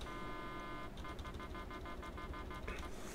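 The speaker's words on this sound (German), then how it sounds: "Die Hupe." Horn of a Claas Arion 600 tractor in Farming Simulator 22, a close steady honk sounding continuously over the engine idle, with a short repeated toot pattern in the middle.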